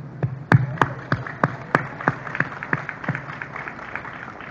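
Applause from a public-sector workers' gathering at a City of Toronto United Way employee campaign launch, with sharp individual claps standing out over a steady patter of clapping hands throughout.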